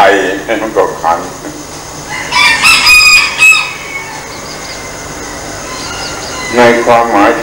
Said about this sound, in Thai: แต่ไก่มันก็ขัน